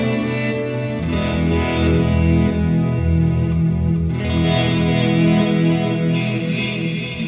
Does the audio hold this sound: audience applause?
no